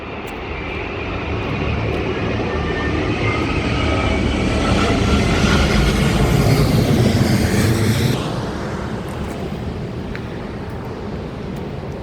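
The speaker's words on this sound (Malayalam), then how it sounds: "ഇതാ അടുത്ത ഫ്ലൈറ്റ്." Passenger jet flying low overhead close to Heathrow Airport, a loud sustained engine roar building steadily, peaking, then easing off as it passes, with no one speaking.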